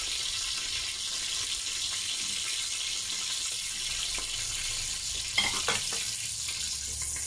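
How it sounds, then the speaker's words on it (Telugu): Food fries steadily in a pan on the stove, a constant soft sizzle holding throughout, with a few brief clinks and stirring knocks near the end. "ఇప్పుడు ఇది కాస్త వేగిన దాకా వెయిట్ చేద్దాము కొంచెం"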